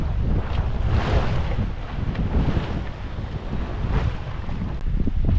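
A sailboat running downwind under a full genoa at about five to six knots, with continuous rushing water along the hull and heavy wind buffeting the microphone, loud and steady throughout.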